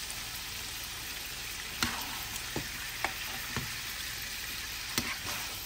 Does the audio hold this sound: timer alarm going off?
no